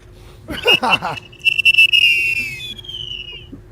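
A person whistles in imitation of an eagle call: after a brief burst of voices, a long, thin, high whistle rises and then slowly slides downward before fading out.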